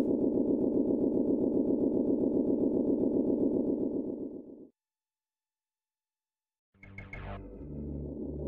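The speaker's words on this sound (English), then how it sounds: "Here comes the train." A train in the Shadowrun video game rumbles in a rhythmic, pulsing mechanical drone, cuts out abruptly into silence for about two seconds, then returns with a lower rumble and a few metallic clanks.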